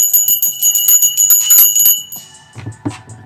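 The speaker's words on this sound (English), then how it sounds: "Yes, we're ringing bells." Bright bells ring rapidly in a cluttered jangle, loud and close, then fade as a few lower knocks and rustles follow.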